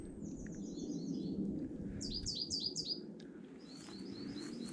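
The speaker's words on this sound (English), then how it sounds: "But listen to the birds." Birds chirp and tweet around the ruins of a burnt-out old house in Wexford, with bursts of short, high calls repeating in quick series over a soft, rumbling outdoor background.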